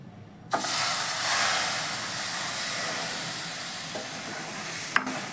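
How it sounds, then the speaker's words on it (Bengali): A sudden loud sizzle and hiss as milk hits a hot pan of fried soya for kheer, then a steady bubbling hiss continuing, with a faint clink near the end. "এখন আমি দুধটা ঢেলে দিচ্ছি"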